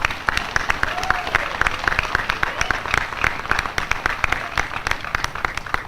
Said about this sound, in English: how about another round of applause for this great faculty and staff